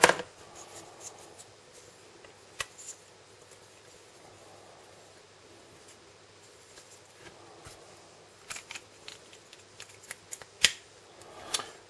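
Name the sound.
cutting off silicone mold material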